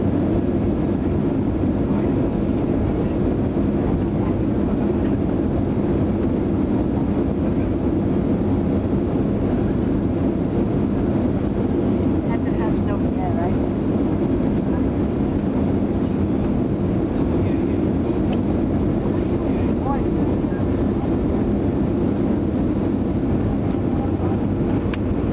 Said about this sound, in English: And now we're on final approach for London Heathrow.